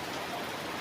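Steady rain falls in a dense, even hiss of drops on surfaces, brief and uninterrupted with no voices.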